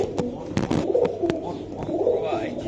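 An Afsan Budapest pigeon coos from inside a cage in a breeder's setup, giving several soft, low repeated coos at close range amid other bird calls and faint background voices.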